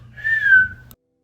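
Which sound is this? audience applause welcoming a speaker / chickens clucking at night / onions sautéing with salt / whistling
whistling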